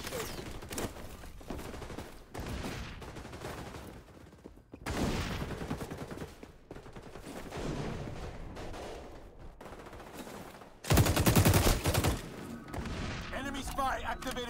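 ACR assault rifle fire in the shooter game XDefiant comes as repeated bursts of rapid gunshots, some closer and louder, one heavy burst late on, with game sounds and someone talking in between.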